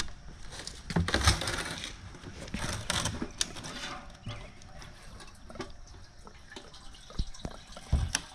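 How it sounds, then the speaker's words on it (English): Fuel sloshes and splashes around inside a go-kart fuel tank being shaken, in uneven bursts with a few louder surges, close by and without talk. "Put some fuel in there, shake it around."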